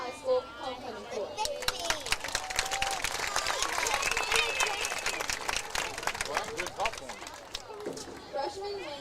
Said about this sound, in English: Please give me a warm welcome and applause